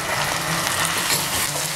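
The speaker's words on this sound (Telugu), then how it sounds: "అల్లం వెల్లుల్లిపాయ పేస్ట్ పచ్చివాసన పోయే వరకు బాగా వేయించాలి" Ginger garlic paste frying with onions and green chillies for paneer biryani, a dense, continuous sizzle close up with faint stirring underneath, loud and steady throughout.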